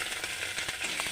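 Garlic and cumin paste with spices fries in a pan, giving a bright continuous sizzle with a few quick scraping clicks over a very short moment.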